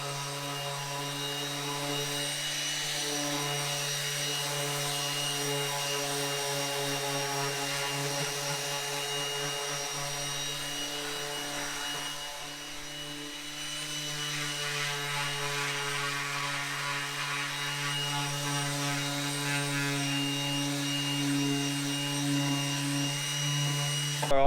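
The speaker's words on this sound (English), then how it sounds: "I think I'm starting to go deaf from the sander being in my ear" An electric sander runs steadily on the engine bay of an R31, a loud continuous tonal whine that holds for the whole stretch with only a brief dip near the middle.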